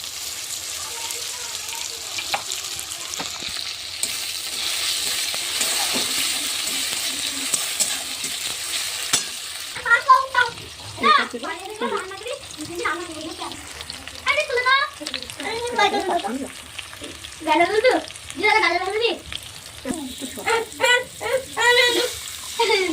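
Tomatoes fry with masala in a pan, a steady sizzle that is strongest at first and then continues more faintly beneath a person talking.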